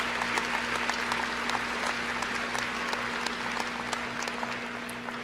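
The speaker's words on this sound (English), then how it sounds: "Give them a round of applause." A large crowd applauds at the 2019 GateWay Community College commencement ceremony. The clapping is sustained and loud, with a steady low electrical hum underneath and no speech.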